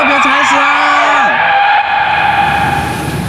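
Car tires screech from hard braking, a loud squeal lasting about a second that dips in pitch, followed by a steady engine hum.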